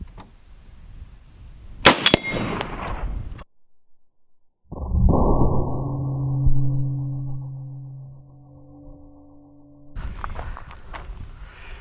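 Three armor-piercing .50 cal heavy sniper rifle rounds, including Raufoss and an AP incendiary tracer, slam into a stainless steel target: sharp loud impacts near the start, a silent gap, then a long ringing metallic hum that fades, with faint rustle afterward.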